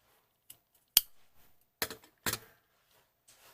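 A few crisp, quiet snips of scissors trim the yarn ends of a small crocheted key ring charm, with short pauses between cuts.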